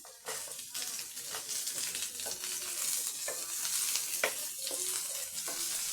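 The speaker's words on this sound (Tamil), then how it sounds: "நம்ம அரைச்சி வச்ச தேங்காவும் சேர்த்துருங்க அதுவும் நல்லா வ வறுபடட்டும்" Ground coconut frying and being stirred in a pan for a snake gourd stir-fry, with a steady sizzle and repeated scraping stirs throughout, close and fairly loud, no talking.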